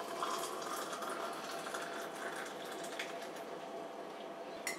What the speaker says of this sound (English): Pour in the water.